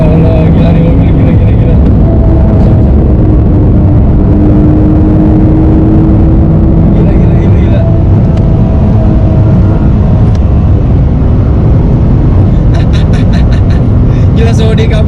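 A Nissan GT-R R35 pulls hard at high speed, heard from inside the cabin as a loud, constant engine roar and whirring drone with rising tones during acceleration, dominating throughout.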